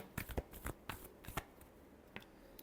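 A deck of tarot cards gets a final shuffle, several quick papery riffles and flutters in close succession, then a couple of lighter taps, all quiet and close with no talk.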